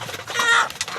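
A single chicken gives a short, close, fairly loud cluck, a brief rising squawk with a couple of quick clucks trailing after it.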